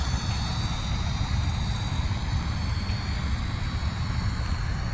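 Flyzone Fokker Dr1 RC model plane in flight: a steady, sustained buzzing electric motor and propeller drone, even in loudness throughout and heard alone without talk.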